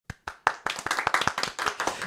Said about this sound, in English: All right, I'm going to clap.